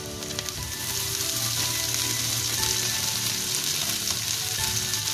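Crispy potatoes fry in a pan with a steady, close sizzle and crackle that runs the whole time and is occasionally stirred, with no talking.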